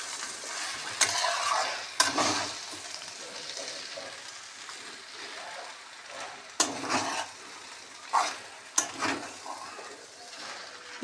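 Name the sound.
stirring beetroot chowmein in a pan with ghee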